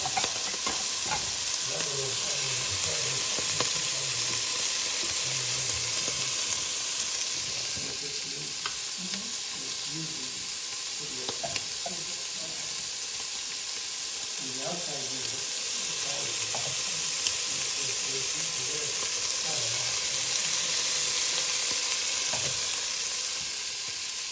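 Bacon sizzling and frying steadily in a pan with added coconut oil, a continuous crackling hiss with occasional stirring scrapes, close and fairly loud throughout.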